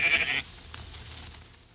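A sheep gives a single short bleat at the start, a loud, bright cry lasting under half a second, followed by quiet background hum.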